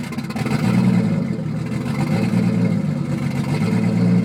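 A Toyota Supra MA70 with a turbo 7M-GTE engine runs at an unstable idle, a loud steady close engine rumble that wavers and surges slightly, heard alone without talk.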